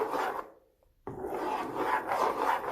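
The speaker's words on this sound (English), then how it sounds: "You have to stir so your porridge don't get lumpy." Jamaican cornmeal porridge stirred in a pot, a steady close scraping rasp that breaks off briefly and then resumes, continuing without talk.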